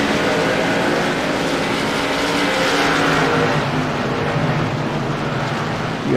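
ARCA Menards stock cars race in a pack at the World Series of Stock Car Racing, a loud continuous roar of several engines droning together without a break, with no one speaking.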